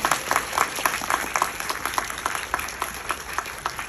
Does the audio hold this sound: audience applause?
yes